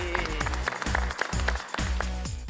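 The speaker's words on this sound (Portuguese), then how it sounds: "uma salva de palmas" A short burst of applause at a school, in a setting about dengue prevention, with scattered claps that rise and fall across a couple of seconds under a faint voice.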